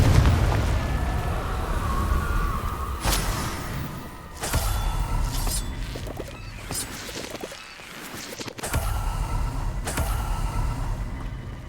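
A Confringo blast spell from Hogwarts Legacy: several booming bursts, one near the start and others at about three, four and a half and eight and a half seconds, each followed by a rumbling tail over a busy game soundscape.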